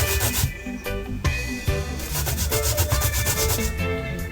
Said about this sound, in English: So if you go use the grater, be mindful of